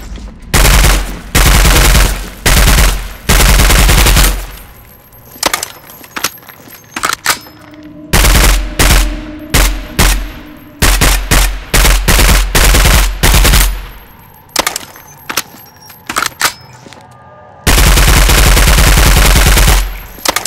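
Loud automatic gunfire from the Roblox game Contact A-888 rips out in long sustained bursts and shorter rapid volleys, separated by brief pauses and scattered single shots.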